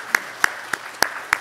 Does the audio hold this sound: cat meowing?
no